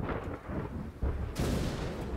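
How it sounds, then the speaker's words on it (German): Stormy rumble followed by a sudden sharp thunder crack and a burst of bright crackling noise, loud and close, from a thunder tiki in a SpongeBob SquarePants video game. "Wenn Patrick ihn berührt, zieht der Sturm auf und ein paar Sekunden kracht es."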